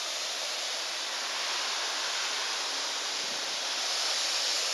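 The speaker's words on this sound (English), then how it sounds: "Here's the creek." Creek water flows beside a bridge construction site, a constant, even hiss of moving water heard nearby at moderate volume with no talking over it.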